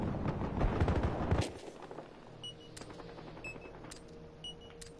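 Battlefield Hardline gameplay gunfire: a dense, loud rattle of shots for about a second and a half, then it drops to quieter distant pops and small electronic beeps in the background.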